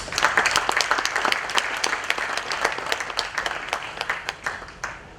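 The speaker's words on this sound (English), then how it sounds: "Another round of applause." A conference audience at a Rotary Club gathering applauds steadily, a dense wash of many hands clapping close and loud for about five seconds with no talk over it.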